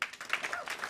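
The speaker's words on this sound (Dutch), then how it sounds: "even applaus" Brief burst of studio audience applause on a Dutch television show, light clapping heard for under a second with a faint voice beneath.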